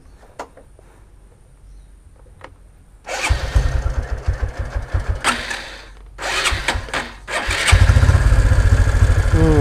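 Honda Supra X 125 manual-clutch motorcycle engine starts and runs close by, with a smooth putter that swells through a few throttle blips and settles into a steady, louder idle.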